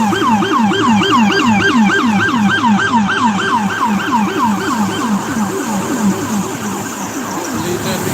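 Emergency vehicle siren, nearby and loud, wailing in a rapid, steady up-and-down sweep for the whole stretch over low traffic rumble.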